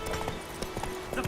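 Horse hooves clip-clopping at a quick, uneven gallop in The Witcher 3 video game, a series of sharp close knocks over a busy game sound bed, with a faint steady tone underneath.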